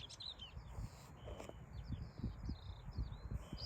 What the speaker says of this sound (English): Just listen to these skylarks.